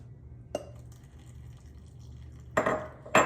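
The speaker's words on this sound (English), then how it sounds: "just going to drain all that liquid off of there" Hot water and baking soda drained off soaked dates through a kitchen strainer: a soft clink early on, then a louder splashing, clattering pour near the end over a low steady room hum.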